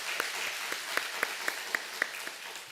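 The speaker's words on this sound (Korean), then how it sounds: "우리 하나님께 영광의 박수 올려드릴까요?" Church congregation in a Sunday worship service applauding, a soft distant wash of clapping with a few sharper individual claps standing out over roughly three seconds.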